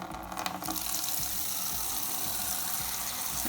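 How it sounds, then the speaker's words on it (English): Warm water pours into a small bath of hydrogen peroxide and water, a loud, steady gushing stream like a running tap close by, continuous throughout with no voices. "I'm gonna add 3 tablespoons of hydrogen peroxide and some warm water."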